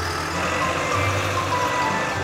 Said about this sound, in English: The truck is delivering parts for the double loop.